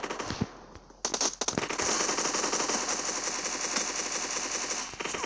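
Rapid automatic gunfire from the PUBG Mobile battle game, a brief opening burst followed by a dense, sustained stream of shots that fills the clip, loud and close with no talking.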